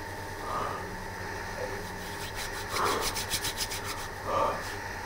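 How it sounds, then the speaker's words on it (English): Two hands rub together close by in repeated dry, brushing strokes, several short swishes spaced over a few seconds with steady background hum and no talk. "just rubbing my hands together"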